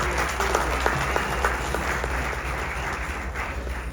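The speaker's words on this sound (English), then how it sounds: "Can you please give her a huge round of applause?" Audience applause fills a fireside chat on cinema at the FICCI MEBC South Connect event: steady, dense clapping from a crowd that holds at an even loudness for the full four seconds, with no voices over it.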